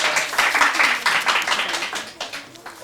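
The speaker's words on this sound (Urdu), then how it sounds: "تالیاں بجائیں ان کے لیے, آپ لوگ حوصلہ افزائی کریں" Audience clapping at a Ramzan quiz competition: a burst of many hands clapping together that rises quickly, stays full for a couple of seconds, then thins and fades, with no talk over it.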